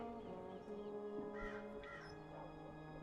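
A crow in the video game Dreamfall Chapters caws a few times at moderate distance over a steady tonal game ambience, with no talking.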